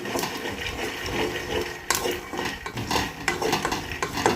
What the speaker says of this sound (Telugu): చూసారు కదా ఈ విధంగా మనం పల్లీలు అయితే వేయించుకుంటున్నాము